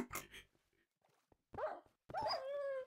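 Dog barks and whimpers from a Minecraft-style video game, a couple of short yelping bursts early on, then louder whining, howl-like calls near the end, fairly close and clear with no talking over them.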